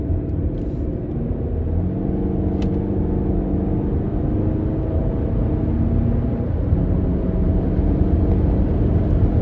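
A Toyota RAV4 four-cylinder engine runs steadily from start to end, a low, throbbing rumble with a slightly uneven, pulsing beat, heard from close by inside the vehicle.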